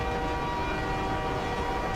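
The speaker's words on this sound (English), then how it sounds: "the train always makes the horn noise as soon as it gets to here" A train horn in Battlefield 4 blares as one sustained, steady tone, loud and continuous over rumbling rail noise, with no voices.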